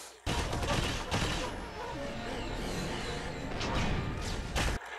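Rapid bursts of gunfire rattle loudly and continuously across a war battle scene in the animated World War II superhero film Justice Society: World War II, mixed with crashes and whooshes.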